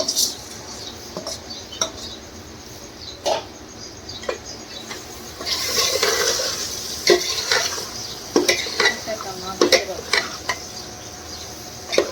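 Oil sizzles steadily as potatoes fry, beneath repeated metal scraping and clinks of a spoon stirring in a pan, with louder clatters in the second half.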